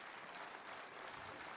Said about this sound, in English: Give Connie a big round of applause.